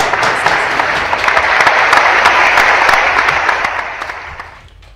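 A concert audience gives loud, sustained applause to a tango quintet, dense clapping holding steady before fading out near the end.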